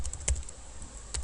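Code is typed on a computer keyboard in a few crisp, scattered keystrokes, close and fairly quiet, separated by short pauses over a low background hum.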